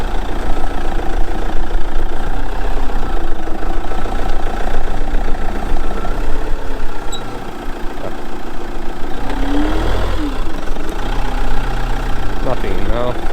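Camper van engine running steadily while driving over an uneven road in Romania, a continuous low drone and rumble with occasional bumps and rattles from the cabin, loud and close throughout.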